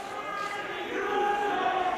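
A wrestling arena crowd jeers and chants at Chris Dickinson during his match with Hiromu Takahashi, a sustained, swelling mass of voices filling the hall.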